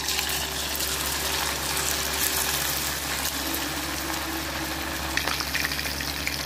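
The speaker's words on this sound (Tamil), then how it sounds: "மீன் நல்லா ஃப்ரை ஆகட்டும்." Anchovies (nethili) frying in hot oil, a dense, continuous crackling sizzle that holds steady and loud throughout with a faint low hum beneath it.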